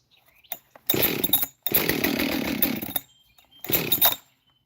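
A Husqvarna chainsaw is pulled and catches, firing in three loud bursts of revving engine separated by short quiet gaps, with a faint starter-cord rattle just before the first burst; close by, no talking.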